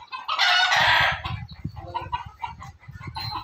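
Rooster crowing loudly up close with chickens clucking in a Filipino backyard flock, one long crow followed by a busy run of clucks and scratchy calls.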